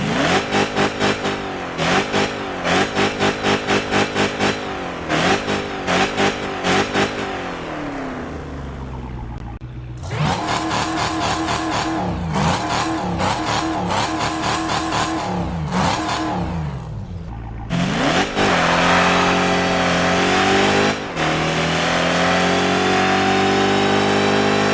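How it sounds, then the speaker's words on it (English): Dodge Hellcat and Dodge Demon engines rev in the Car Parking Multiplayer video game, a series of loud rhythmic throttle blips and rising, falling revs with brief idle gaps between bursts. "we're gonna do a quick comparison of the Hellcat and Dodge Demon car sounds"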